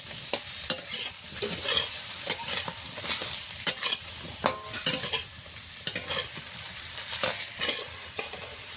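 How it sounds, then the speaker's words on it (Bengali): Taro, salted beforehand, fries in hot mustard oil with a dense steady sizzle. Sharp, repeated clinks and scrapes of a spatula stirring in the pan punctuate it close up, and no one speaks. "তেলটা গরম করে নিয়েছি, নুন দিয়ে মেখে রাখা কচুটা ভেজে নেব।"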